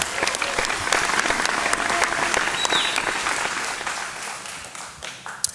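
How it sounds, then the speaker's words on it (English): A television singing competition audience at a live venue applauds its top 10 singers, with a full, steady burst of crowd clapping and scattered sharp claps that fades gently toward the end. "please put your hands together and give a big round of applause for our main stars of the show,"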